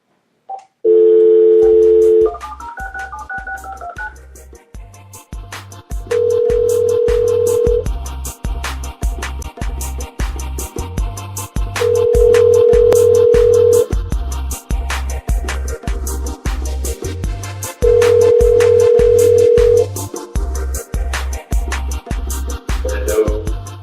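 A telephone dial tone is followed by rapid keypad dialing beeps, then repeated long ringback tones over a steady rhythmic beat, as a caller is rung up on a sports talk radio show.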